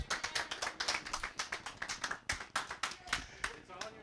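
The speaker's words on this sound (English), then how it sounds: "All right, clap it up. Clap it up." A middle school Family Feud game audience claps, a fairly close, uneven patter of hands with distinct individual claps and a few louder slaps, lasting about four seconds.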